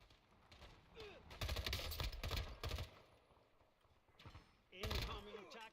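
Gunfire from a weapon in the Warzone video game, in several loud bursts of rapid shots separated by quieter gaps, with a voice speaking during the quieter stretches.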